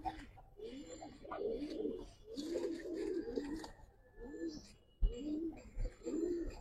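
Giribaz and colouring pigeons coo in repeated rolling, bubbling calls, close and fairly soft, several overlapping in a steady rhythm with short breaks.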